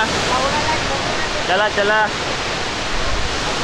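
Waterfall roaring as a broad, constant wash of rushing water, loud and close, while a person briefly calls out over it.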